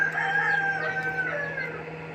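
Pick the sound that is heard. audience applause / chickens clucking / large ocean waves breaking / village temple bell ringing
chickens clucking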